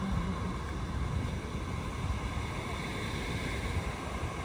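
Lake water spills through the overflow weirs of Wyra lake as a faint, steady rushing wash, even and unbroken, with no voices.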